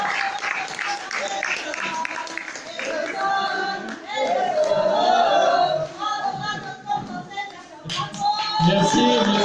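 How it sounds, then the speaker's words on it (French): An audience applauds at a live French storytelling performance, sustained clapping with chatter and a voice speaking over it, swelling loudly toward the end. "Alors on peut l'applaudir bien fort"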